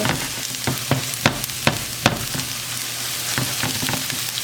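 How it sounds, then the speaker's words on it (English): Garlic dropping into a hot pan and frying, a close steady sizzle punctuated by several sharp spatula taps and scrapes, with no talking. "Our garlic will go into our pan"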